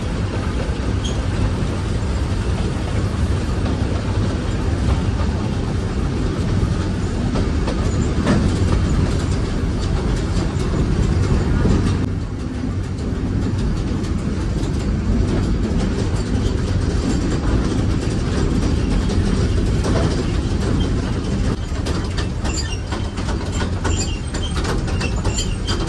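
Matheran toy train running along its rails through a valley, a steady close rumble with faint clatter that holds through the whole stretch and dips briefly midway.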